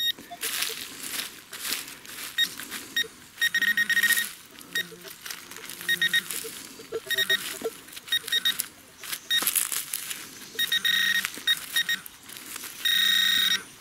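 A metal detector gives repeated high, clear electronic beeps in short bursts while it is swept outdoors, with crinkling and rustling in between and a longer steady tone at the end.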